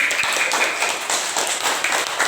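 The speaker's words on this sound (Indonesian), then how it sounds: "tepuk tangan untuk kelompok kinestetik" A classroom group of people clapping hands in steady, dense applause, close and loud, continuing throughout without talk.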